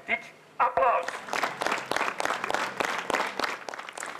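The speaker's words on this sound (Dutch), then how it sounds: "Daarom een welverdiend en dik applaus." Police officers applaud healthcare workers outside a hospital during the coronavirus crisis, a modest group clapping in uneven bursts after a brief opening sound, the claps sharp and fairly close, with some voices mixed in.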